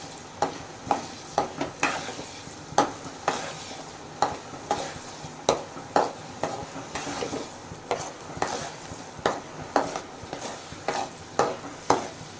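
Ground shallot and garlic paste sautéing in a pan for a homemade fish kulambu, a steady soft sizzle broken by frequent sharp spoon scrapes and stirring knocks, close and moderately loud throughout.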